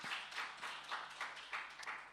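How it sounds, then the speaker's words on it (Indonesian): A church congregation at a Sunday worship service claps in a steady rhythmic beat, roughly three claps per second, heard faint and somewhat distant in a reverberant hall. "Berikan tepuk tangan kita untuk Tuhan kita"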